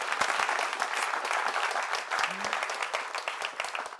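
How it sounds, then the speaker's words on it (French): A studio audience applauds the guests at the close of a French-language talk show, a dense, steady wash of clapping that holds at an even level for the full stretch with no pause. "Applaudissements encore pour eux, s'il vous plaît."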